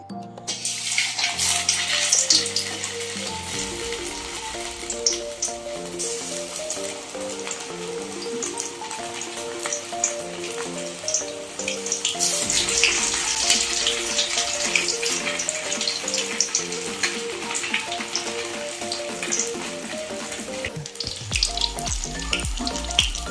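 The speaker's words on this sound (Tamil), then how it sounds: "இப்போ மீன் பஜ்ஜி போடலாம். ஒவ்வொரு மீனாக எடுத்து பஜ்ஜி மாவில் நல்லா நனைச்சி போட்டுக்கலாம்." Batter-coated fish bajji frying in hot oil, a continuous dense crackle and bubbling sizzle that stays loud and close throughout, with clinks of utensils and a brief pause near the end.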